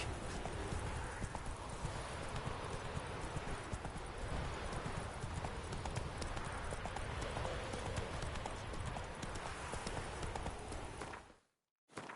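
The horse Roach gallops in a video game, with rapid, even hoofbeats clip-clopping continuously at close range for about eleven seconds before cutting off abruptly near the end.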